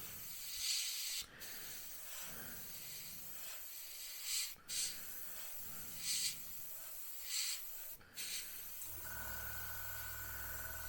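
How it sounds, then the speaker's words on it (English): An airbrush hisses in repeated short bursts while painting the cockpit frame of a 1/35 Bf 109 G-6 model aircraft, with a steady compressor-like hum underneath and a low drone joining toward the end. "So you're spraying 90 degrees to the frame"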